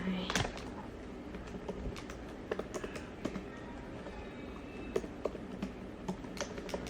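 Keys clack on an iPad Pro Magic Keyboard in irregular bursts of close, light taps, with a voice murmuring briefly in the background.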